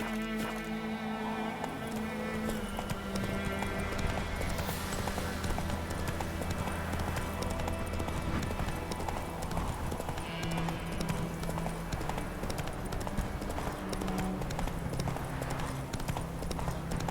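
Horse galloping in The Witcher 3, a steady fast clip-clop of hooves running continuously over a dense game soundscape with music throughout.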